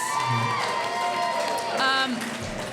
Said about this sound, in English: Round of applause if you love batter.